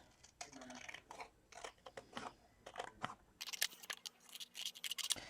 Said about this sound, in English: I'm going to have to cut my card down a little bit to fit this card in here.